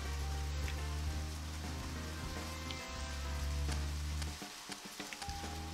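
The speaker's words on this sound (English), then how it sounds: "Oh no, it's raining." Steady hiss of falling rain in the video game Deadly Premonition, with scattered droplet ticks, layered over a low, constant droning hum.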